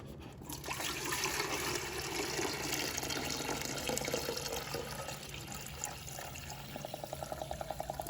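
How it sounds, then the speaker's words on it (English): Plain water pours steadily into the cold tank of an Avalon water cooler during internal cleaning, a continuous close splashing stream that softens near the end into a rapid rhythmic glugging. "we can go ahead and pour plain regular water into the cold tank"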